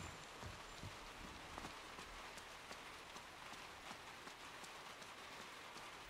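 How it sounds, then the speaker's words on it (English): Steady rain in a video game falls in a soft, even patter, with scattered drops tapping on hard surfaces and no voices. "Rain keeps falling on my head."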